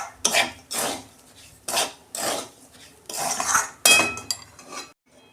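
A spoon stirring semolina upma in a pan with a little water, producing about six rhythmic scraping strokes against the metal with brief clinks between them, close up and without speech.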